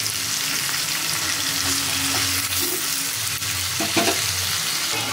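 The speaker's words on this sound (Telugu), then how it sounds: "ఇప్పుడు దీనిలో టమాటా ముక్కలు వేసుకుని ఫ్రై చేసుకుందాం." Tomato pieces frying with green chilies in a pan, a steady loud sizzle with intermittent stirring scrapes and a few clinks near the end, close and continuous with no talking.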